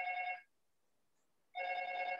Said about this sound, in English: So the doorbell's ringing.